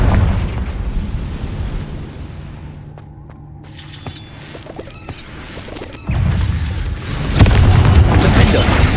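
Confringo explosive spell blasts in Hogwarts Legacy, loud booming crashes and shattering impacts layered over steady game ambience, with heavier blasts arriving near the end.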